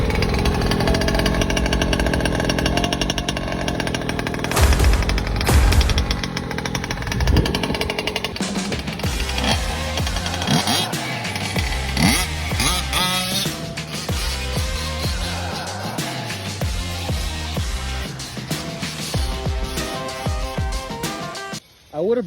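A gas-powered 1/5 scale RC truck engine runs loud and close, holding a steady buzzing two-stroke drone with revving swells throughout, then cutting out abruptly at the end.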